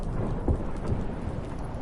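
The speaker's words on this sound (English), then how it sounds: "Didn't bargain for no storm." Steady rain and rolling thunder from a storm in The Witcher 3, with a low rumbling wash over dense rainfall throughout and a couple of heavier thunder swells, no voices.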